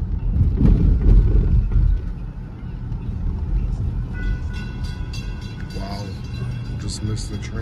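A train passes at night beside a road between Delray and West Palm Beach, heard from a car as a loud rumble, with a horn sounding in the latter half over muffled background voices.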